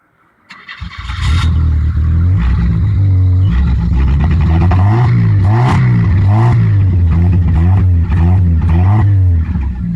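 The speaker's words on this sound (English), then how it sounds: "You want to start up your truck so they can hear what your little race car sounds like?" A small race truck's engine cranks and catches about a second in, then idles roughly and is revved repeatedly in loud, close surges through to the end.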